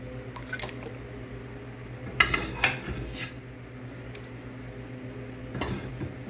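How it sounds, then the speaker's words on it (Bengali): Chicken leg pieces and ginger paste go into a frying pan of boiling water, giving a couple of soft wet plops and light clinks over a quiet, low simmer. "এখন আমি দিয়ে দিব চিকেন লেগ পিস এবং আদা বাটা,"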